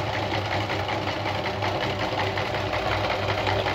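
Singer 319K sewing machine, black variant, running steadily while sewing a zigzag stitch, a close, continuous mechanical hum with a fast, even needle rhythm throughout.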